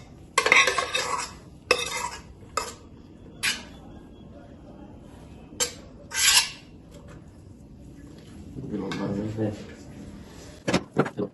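Metal spoon clinking and scraping against a pot while pasta with tuna is stirred, a series of sharp bright clacks in bursts with a softer stir near the end, with people talking in the background.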